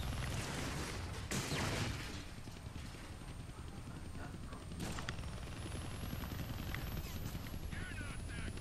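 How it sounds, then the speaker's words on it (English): A helicopter gunship hovers in the Deadpool video game, a dense continuous rotor roar filling the scene with a few sharp bursts and impacts breaking through. "a chopper while it's flying around trying to turn you into shredded cheese"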